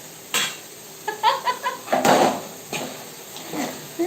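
Food frying in a pan in a home kitchen, with a soft sizzle under close clinks and scrapes of utensils against the pan in a few quick bursts. There is no speech.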